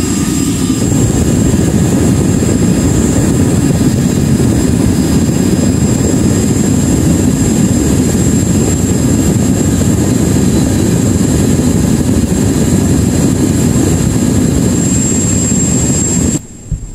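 A gas combustion furnace runs during lead cupellation, giving a loud, steady, unbroken roar up close that cuts off abruptly near the end.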